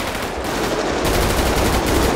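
Rapid gunfire in the video game GTA 5 during a roleplay store robbery shootout, a dense, steady crackle of shots filling the whole clip at close range.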